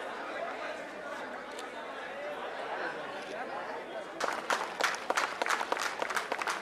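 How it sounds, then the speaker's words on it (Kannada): Applause at a district-level sports meet for state government employees in Raichur swells in the closing seconds into dense, fairly loud clapping, following a stretch of crowd murmur and background chatter. "ಜೋರಾದ ಚಪ್ಪಾಳೆ."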